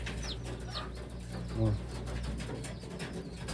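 A single low pigeon coo sounds once, near, over steady background rumble.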